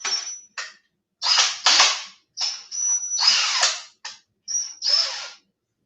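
A power drill whirs in short repeated bursts, starting and stopping about a dozen times, loud and close with silence between.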